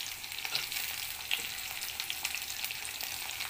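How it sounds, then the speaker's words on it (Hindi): Green chillies sizzle in hot oil in a pan as they are stirred, a steady close crackle with scattered sharp pops and scraping, no voices. "हरी मिर्च डाल के थोड़ा चला देना है।"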